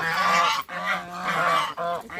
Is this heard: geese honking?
yes